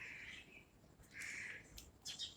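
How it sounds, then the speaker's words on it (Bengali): Birds call outdoors around dawn, with several bright chirps and warbling phrases coming in short bursts from a moderate distance against a quiet background. "পাখির ডাকগুলো শুধু শোনো"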